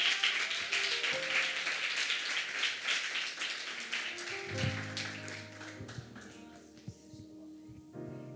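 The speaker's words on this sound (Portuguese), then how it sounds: "Aplauda Jesus." Church congregation applauding at a women's worship service, a fairly quiet wash of scattered clapping with music tones underneath, fading down toward the end as the hands slow.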